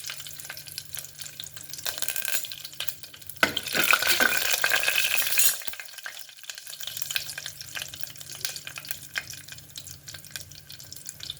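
Whole spices such as cloves, cinnamon, cardamom, cumin, dried red chillies, curry leaves and bay leaf fry in hot oil for a soya keema biryani, giving a steady low sizzle with stirring and a louder burst of frying midway.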